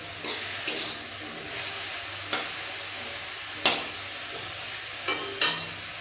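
Food fries under a lid in a covered pan, a steady soft sizzle and hiss throughout with a few sharp clicks or taps of utensils at intervals.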